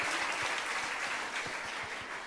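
An audience at a religious gathering claps in continuous, fairly even applause, with individual claps audible as soft rhythmic pops throughout.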